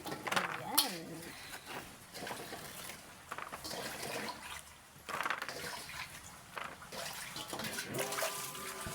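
Pili nuts being washed in water, with sloshing, splashing and rattling of nuts in a container, fairly soft and continuous, while a person talks over it.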